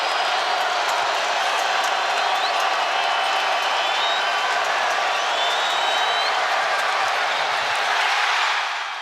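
A basketball arena crowd roars wildly through a free-throw attempt, a loud, continuous wall of cheering and whooping that swells slightly near the end, with voices mixed into the din.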